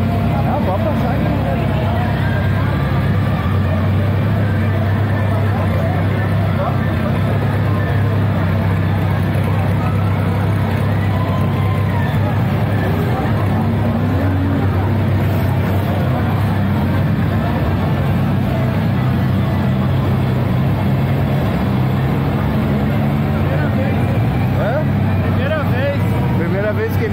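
A Volkswagen Voyage with its engine running at a drag racing track, a steady low engine drone that stays loud and constant, with crowd chatter and other vehicles in the background.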